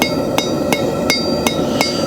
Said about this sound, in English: I'm going to cut the nail using the Hardy chisel that I showed you before